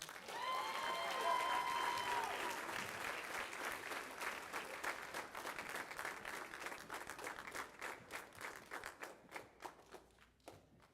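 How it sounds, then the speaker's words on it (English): Audience at a school spring band concert applauding the 9th grade band class, a full crowd clapping loudly at first with faint voices mixed in, then thinning out into a few separate claps before fading. "Let's give one more round of applause for our 9th grade class."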